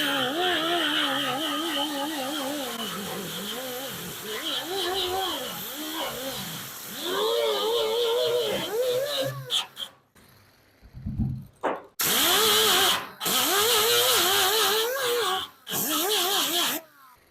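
An angle grinder fitted with a coarse 24-grit disc cuts into metal during a crushed car roof repair, coming in several loud, harsh bursts with short pauses between them, after a stretch of someone talking.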